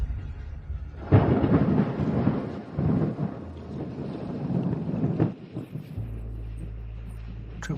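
Deep rolling thunder rumbles loudly and continuously before heavy rain, swelling and fading in long waves, then gives way to a low steady hum.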